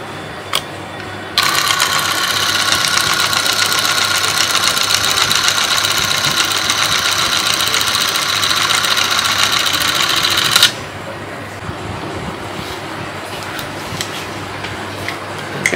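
A Bell & Howell 8mm film projector from England runs with a loud, steady mechanical whirr and rapid ticking for about nine seconds, starting and stopping abruptly against quiet room background.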